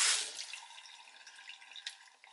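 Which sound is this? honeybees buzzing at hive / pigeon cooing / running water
running water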